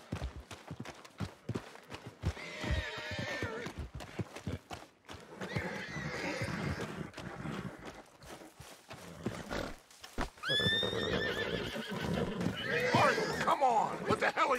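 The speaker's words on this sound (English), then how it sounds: "Get him on the horse and let's go." A horse whinnies and neighs repeatedly over clip-clopping hooves in the video game Red Dead Redemption 2, with people talking over the commotion; the galloping builds toward the end.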